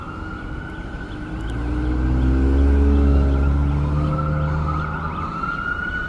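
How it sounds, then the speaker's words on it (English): An ambulance siren wails through traffic on University Avenue, its rising and falling tone swelling to a peak midway and then easing off, loud over steady street and engine rumble. "There are some sirens, ambulance."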